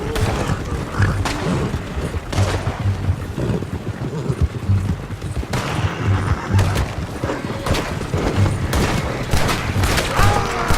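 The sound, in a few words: gunfire in the video game Red Dead Redemption 2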